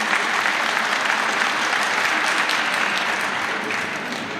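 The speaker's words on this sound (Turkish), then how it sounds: "Ona da kocaman bir alkış rica ediyorum sizden." Steady, dense applause from a ceremony audience at a livestock support event in Honaz, many hands clapping together at a fairly even level, tapering slightly toward the end, with no talk over it.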